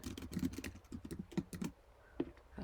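Quick, irregular keystrokes on a computer keyboard as an email address is typed in. The clicks are close and fairly quiet, with no talking.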